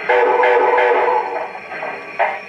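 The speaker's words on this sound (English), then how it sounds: "which is three toots of the whistle." An MTH Erie Triplex 2-8-8-8-2 model steam locomotive whistle sounds the reverse signal, three toots, as a bright, close, sustained whistle tone that runs together before a final short toot.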